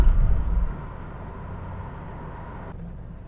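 A 1974 Toyota Crown cruising along the Great Ocean Road in Victoria, a steady low engine and road rumble heard from inside, louder for the first moment then settling into an even drone.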